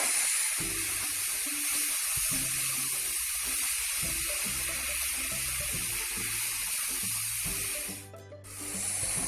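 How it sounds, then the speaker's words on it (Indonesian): Coconut milk simmers and reduces in a pan for an Indonesian arem-arem chicken filling, giving a continuous bubbling sizzle with soft irregular pops that briefly drops out near the end. "kemudian kita masukkan santan. Masak hingga santan menyusut."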